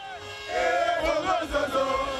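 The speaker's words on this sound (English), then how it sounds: "We moved back up through the city into the rapidly gathering crowds" Rapidly gathering crowds in city streets in Zimbabwe, a swell of many voices cheering and shouting together, rising loudly after a quieter moment and staying dense throughout.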